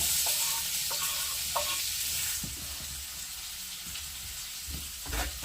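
Chopped onions frying in oil with a small piece of butter, a soft continuous sizzle with occasional stirring scrapes and clicks in the pan, fairly quiet and close, no speech.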